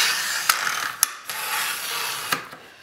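A finish nailer's nail magazine is pulled back and let go to slide forward, giving a few sharp mechanical clicks and a sliding rasp up close, with no talking.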